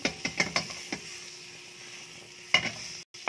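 Garlic sautéing in butter only, no oil, in a pan for ginisang petchay, with a quiet sizzle broken by several sharp scraping stirs at the start and again near the end.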